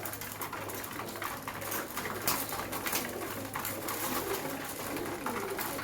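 Pigeons in a home loft coo faintly beneath a dense, steady wash of broadband noise and a low hum, the calls indistinct and continuous rather than distinct.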